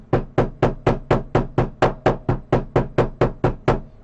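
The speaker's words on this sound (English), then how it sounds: "you need to hammer it" Hammer striking an adhesive-joined dinosaur model part, about fifteen sharp, even knocks in steady rhythm, close and clear with no talking.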